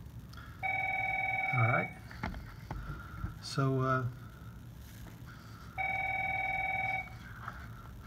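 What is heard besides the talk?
telephone ringing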